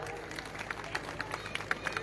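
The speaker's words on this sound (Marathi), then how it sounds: "परत एकदा जोरदार टाळ्या होऊ द्या" Crowd at a political rally breaks into applause, a dense, steady clatter of many hands at moderate distance with light crowd murmur beneath.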